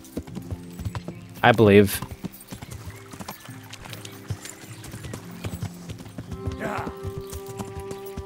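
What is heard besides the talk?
horse hooves clip-clopping while riding, video game Kingdom Come: Deliverance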